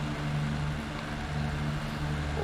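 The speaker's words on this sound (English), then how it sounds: "It's just how it idles. It's a very rough sounding idle." A low, rumbling Ferrari GT3 race car engine in iRacing idles roughly and steadily at Charlotte Roval, alongside other cars, its uneven throb sustained throughout with no speech.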